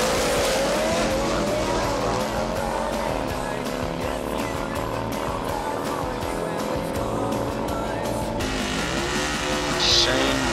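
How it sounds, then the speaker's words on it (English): Harley Davidson Destroyer drag bike at a Northern Nationals drag race, engine warming up with loud rising and falling revs among other racing engines, a busy, close, roaring mix with brief screeching. "Shane Davis on the Harley Destroyer, warming it up."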